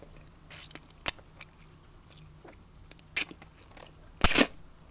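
Someone bites and chews spicy hot chicken flavor noodles. Loud, close, wet crunches and squishy bites come in scattered bursts with quiet gaps between them; no one speaks.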